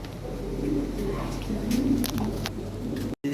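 Big-size Bombay pigeons coo in soft, low repeated phrases close by, over a steady low hum, with faint voices and a brief dropout near the end.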